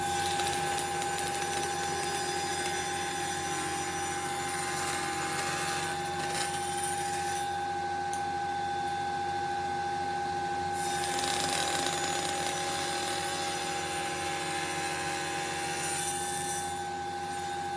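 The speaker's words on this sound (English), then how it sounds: "you feed it into the table saw" A table saw ripping a thin strip of wood lengthwise runs steadily with a constant motor whine and cutting rasp, continuous and close throughout with no talk.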